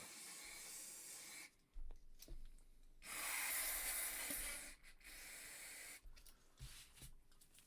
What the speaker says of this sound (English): And then I'll spray up the bore as well.